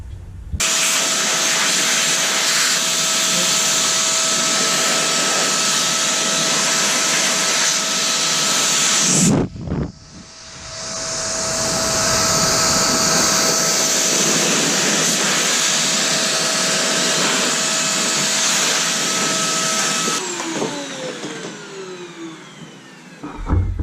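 An XPOWER A-5 electric duster blows air over Lego pieces: a loud, steady, hissing whine that cuts out briefly midway, then spins back up and runs on with no talk.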